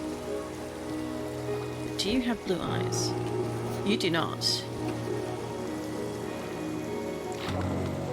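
Rain falling in Minecraft, a steady hissing patter heard under someone talking, with a low ambient hum and a few brief game effects along the way.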